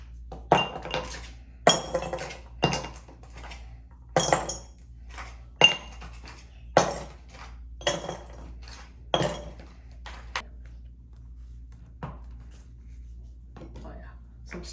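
Ice cubes clatter and clink into a glass for a Bloody Caesar, a series of sharp, close knocks at uneven intervals that thin out toward the end, with a voice speaking in between.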